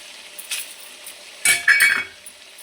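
Onions are sautéed with salt, turmeric and dried chillies while a spoon scrapes and clinks against the pan in a few short bursts over a faint sizzle.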